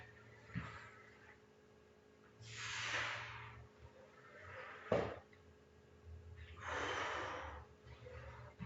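Forceful exhaled breaths during a strength flow workout, two long breathy whooshes around three and seven seconds with a sharper snort-like puff between, close up over quiet background.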